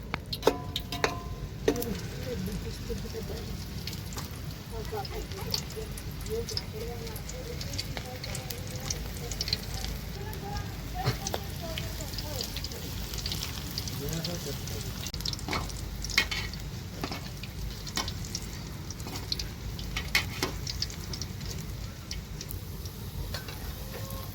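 Gotis sizzle in hot oil in a home kitchen, a low steady crackle with occasional stirring clicks, faint and continuous while a voice talks now and then.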